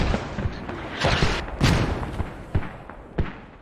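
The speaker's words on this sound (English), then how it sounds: "And now they have a mortar tube up inside. Knut is mortaring." Mortar rounds in a military shooter thump and boom in several sharp, spaced blasts over a noisy battlefield background, each followed by a short fading rumble.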